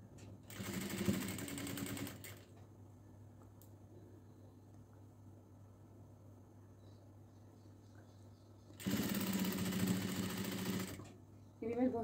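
A sewing machine stitching cloth for a salwar hem design, two loud steady bursts of fast whirring stitches near the start and end, with quiet pauses between them under a low background hum.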